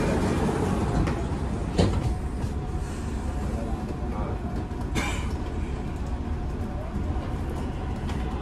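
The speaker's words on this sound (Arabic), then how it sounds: "Doors closing." Dubai Metro train doors sliding shut inside a moving carriage, a couple of short thumps over constant rail rumble and cabin noise, with a voice announcement heard over it.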